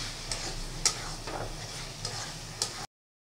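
Mushrooms being stirred and fried with spice paste in a pan, a soft continuous sizzle broken by a few sharp spoon taps and scraping stirs, close and fairly quiet.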